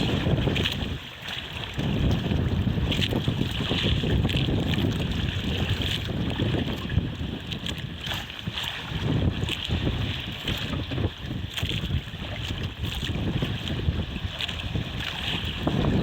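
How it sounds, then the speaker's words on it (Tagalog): Strong wind buffets the microphone with a steady roar, mixed with the churn and slap of waves against a small fishing boat at sea. "Medyo malakas po ang alon saka yung hangin guys."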